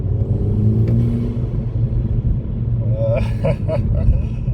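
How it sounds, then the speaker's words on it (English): A Mk5 Golf GTI runs with a steady low engine rumble and ram-air intake noise, then a few short hissing puffs from the diverter valve venting near the end. "You've got the ram air that's making some noise, and then I've got the venting from the diverter valve."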